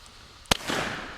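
A mailbox blown up by an explosive gives one sharp, loud bang, followed by a brief rumbling tail, heard from a distance.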